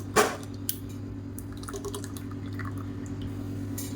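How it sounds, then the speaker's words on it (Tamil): Water used to rinse a mixer jar poured into coconut chutney for idli and dosa, a sharp close splash at the start followed by soft drips and trickles over a steady low hum. "இப்போ மிக்சியை அலசிட்டு இந்த தண்ணியை வந்து சேர்த்துக்கிறேன்."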